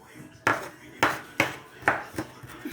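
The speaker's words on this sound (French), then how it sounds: "Faut hacher." Knife chopping vegetables on a cutting board for vegetable accras, five or six sharp, evenly spaced chops, close and distinct, with faint background sounds and no talk over the strikes.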